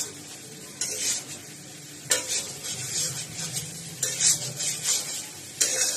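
Soya chunks and spices fry in a pan while being stirred. A steady sizzle carries several bright scraping strokes and a spoon clink now and then, heard up close.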